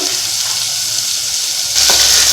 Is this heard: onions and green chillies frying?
yes